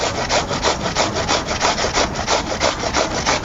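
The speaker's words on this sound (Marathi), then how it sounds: "आपल्याला ते बटाटा आहे ना चांगलं किसून घ्यायचं आहे" Potato being grated on a hand grater for bread pakoda, a quick steady rhythm of rasping strokes, close and loud, with no voices.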